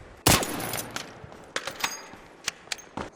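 A silenced gun in a video game fires in muffled, sharp pops, one louder shot followed by several lighter spaced shots amid quieter background noise, no talking.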